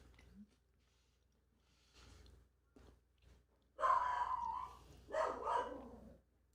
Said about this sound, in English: So my dogs are outside raising hell because everybody's outside at the park.